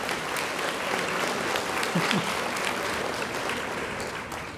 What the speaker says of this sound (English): let's give everyone in earth and environmental science another round of applause.